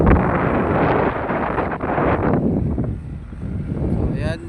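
Wind gusting across a seaside hilltop in Leganes, Iloilo, buffeting the microphone with a loud, broad, steady roar that eases slightly toward the end.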